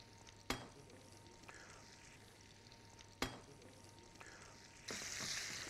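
Shrimp and garlic frying in a pan, giving a low steady sizzle broken by two sharp clattering knocks, with the frying growing louder and brighter near the end; nobody speaks.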